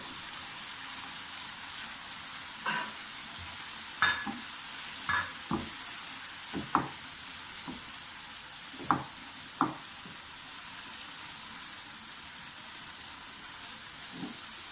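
Onions fry quietly in a pan for an Afghani omelette, a soft steady sizzle broken by a handful of sharp spatula taps and clinks, with no voices.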